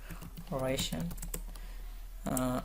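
Computer keyboard keys tapped while writing Kotlin array declaration code, a scattering of light clicks between and around bursts of a voice speaking, close and moderately quiet.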